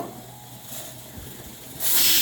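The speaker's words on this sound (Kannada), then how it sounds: "ಪಕ್ಕಕ್ಕೆ ಒಂದು ಕುಕ್ಕರ್ ವಿಸಲು ಆಗಿದೆ" Quiet kitchen background, then a loud sustained hissing blast of steam from a pressure cooker whistle near the end.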